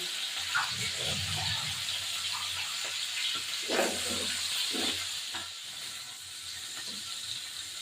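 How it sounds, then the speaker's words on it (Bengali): Salted, turmeric-coated chara pona fish fry in hot oil, giving a continuous close sizzle and hiss with occasional soft clinks and stirring sounds. "এবার আমি এটাকে ভাজবো।"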